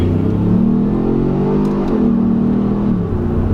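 A 2018 Ford Explorer Sport in sport mode pulls away from first gear, its engine rising steadily in pitch, dipping at an upshift and climbing again, loud and close with no talk.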